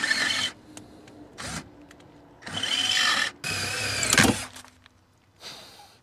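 A power drill boring into a part of a car's suspension, heard in several short, loud whirring bursts separated by quiet gaps, with the motor revving up and cutting off each time.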